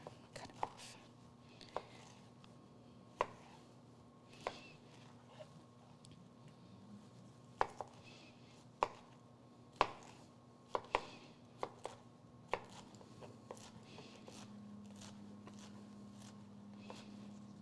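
Knife chopping caramelized pineapple on a cutting board, a dozen or so sharp irregular taps spread across the clip over a steady low kitchen hum, close and fairly quiet.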